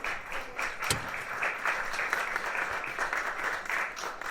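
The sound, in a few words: audience round of applause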